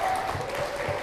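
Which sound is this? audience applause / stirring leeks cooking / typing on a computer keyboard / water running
audience applause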